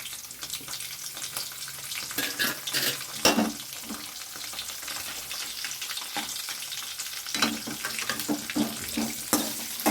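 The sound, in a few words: shallots frying and being sautéed for pepper chicken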